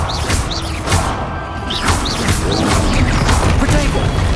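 Confringo fire spell explosions in Hogwarts Legacy, a series of loud bursts and whooshing blasts in a dense, continuous stretch of game combat noise, with a voice calling out spells over it.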